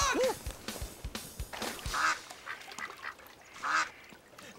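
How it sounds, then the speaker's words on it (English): A duck quacks several times in short nasal bursts amid a busy, noisy background of splashes and clatter, fairly faint overall, with no clear speech. "This time, it really is a duck."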